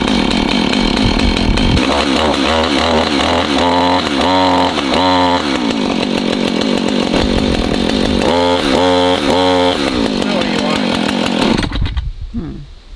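A chainsaw is started and runs in a loud, close buzzing drone, with the engine revving up and down in repeated surges before it cuts out abruptly near the end.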